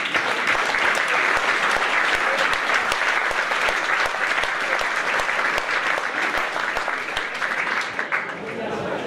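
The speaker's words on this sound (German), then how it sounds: "klatschen Sie für mich selber" Loud, sustained audience applause at a ceremonial anniversary celebration of a village, dense clapping holding steady throughout with a slight fade near the end.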